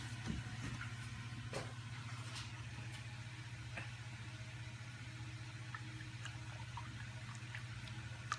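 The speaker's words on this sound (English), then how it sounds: "let's take our funnel off and put the oil cap back on" Motor oil pours through a funnel into the engine of a 2009 Nissan Rogue, a faint steady liquid trickle over a low, constant hum.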